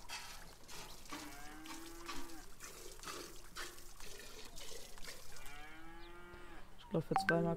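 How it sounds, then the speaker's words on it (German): A cow lows repeatedly while being milked on a farm in Red Dead Redemption 2, two drawn-out moos over a steady trickle of milk into a pail, with a short clatter at the end. "Jetzt können wir auch die Kuh mal noch melken."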